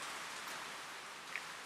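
Steady rain falls outdoors in Costa Rica, a soft continuous hiss of drops on surfaces, faint and even, with a single small tap near the end.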